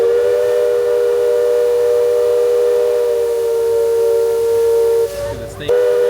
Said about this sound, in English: See the steam come out, buddy?